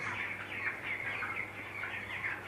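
Chickens on a poultry farm make a dense, steady chorus of clucks and chirps that fills the space without pause.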